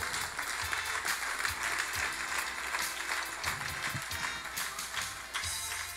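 Congregation clapping along during a Sunday church sermon, a dense, steady wash of many hands that carries on throughout at a moderate distance, with no speech over it.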